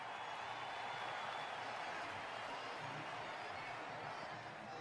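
A wrestling crowd in WWE 2K20 at an ECW show gives off a steady, distant roar of cheering that stays faint and even, with no clear breaks.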